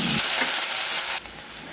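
Onion, curry leaves and crushed garlic fry in hot oil for drumstick rasam, giving a loud, close, steady sizzle. The sizzle drops abruptly to a softer hiss near the end.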